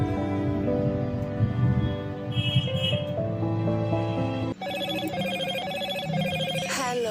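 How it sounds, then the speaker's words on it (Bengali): A telephone rings at night, its repeated electronic ringtone sounding clearly over background music and a low hum, the pattern shifting to a sharper, brighter ring partway through. "রাতে আবার কে ফোন করলো?"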